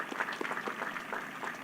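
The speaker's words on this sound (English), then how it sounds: "we can clap." Light, scattered clapping rises from the audience at a spring college commencement for health sciences and STEM graduates, fairly faint and distant, with individual hand claps audible in a loose rhythm.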